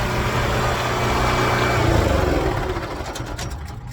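A Westinghouse generator APU on a Kenworth W900L truck hums steadily and smoothly, then begins to wind down and fades as the motor shuts off near the end.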